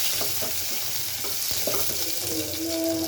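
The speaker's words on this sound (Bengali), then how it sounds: "তেলটা গরম হয়ে গেছে, এখন পেঁয়াজ দিয়ে দিব" Onions sizzling in hot oil in a village home kitchen, a steady broadband fry with scattered stirring clatters and a faint tonal ring near the end, with no one talking.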